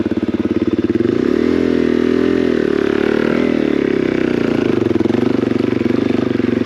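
A motorcycle engine labours and revs up a steep Colorado mountain climb with the clutch slipping. It holds a loud, close, continuous drone that swells and shifts pitch as the throttle opens.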